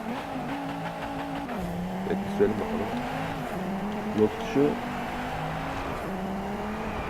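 A sports car engine in the racing video game Driveclub drones and rises in pitch with a few sharp revs, while someone talks over it.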